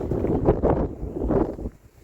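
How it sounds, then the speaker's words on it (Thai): Strong wind gusting outdoors in Norway on a cold day, blowing hard through grass and trees; a loud, rough buffeting roar that surges in waves across the microphone, with no talking. "ลม ค่ะ ลมแรงมาก"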